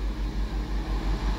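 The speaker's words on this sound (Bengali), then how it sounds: "একটি রেলওয়ে ইন্সপেকশন কার বিপরীত দিকে যাচ্ছে।" Railway inspection car on the line, passing in the opposite direction, close by with a rhythmic low thumping pulse and steady engine rumble.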